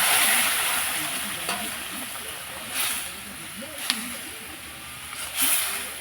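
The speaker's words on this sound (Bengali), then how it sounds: "এবার শাকের তরকারিটা ঢেলে দেবো।" Greens curry is poured into a hot pan and stirred. A loud sizzling hiss fades, then spatula scrapes and light clinks come in a few scattered bursts.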